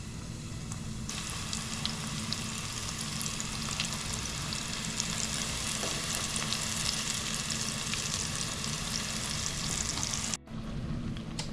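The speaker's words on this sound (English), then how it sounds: "We're gonna toss these babies in." Hot oil crackles and sizzles loudly once morel mushrooms drop in, a dense continuous frying hiss that cuts off abruptly near the end.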